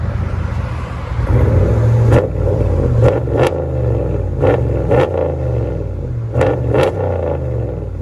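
A 2015 RAM 1500 pickup with a 5.7L HEMI V8 and a DynoMax Race Bullet exhaust idles with a deep, rumbling burble, punctuated by several sharp throttle blips, some doubled, close and loud.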